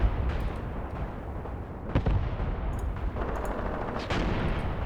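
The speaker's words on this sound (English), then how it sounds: "Oh, there's one more gun in the forest. And it did just open fire." Artillery gunfire from a gun hidden in a forest in Graviteam Tactics, several heavy booms rolling out over a dense rumbling battlefield din, with distant blasts at intervals.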